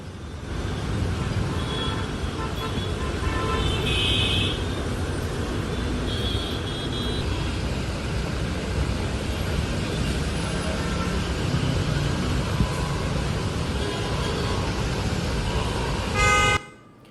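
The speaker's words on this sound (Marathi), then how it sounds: "पावसामुळे ठाण्यात जागोजागी वाहतूक कोंडी झालेली पाहायला मिळते" Honking car horns ring out repeatedly over a steady, dense wash of congested traffic on rain-soaked streets in Thane, India, the roar continuous throughout before cutting off abruptly at the end.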